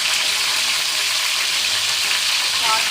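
Brinjal pieces frying in hot oil, giving a loud, steady, dense sizzle that fills the whole stretch without pause, close up and with no voices.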